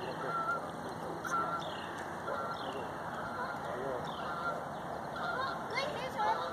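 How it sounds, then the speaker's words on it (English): Several geese honk repeatedly in the distance over a constant outdoor hiss, with scattered faint calls throughout. "There's geese. I hear geese."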